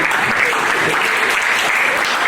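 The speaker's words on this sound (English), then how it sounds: "Let's give them all a big round of applause, ladies and gentlemen." Audience applause at a hypnotist show after prom, a dense, steady wash of many hands clapping at once, loud and close throughout.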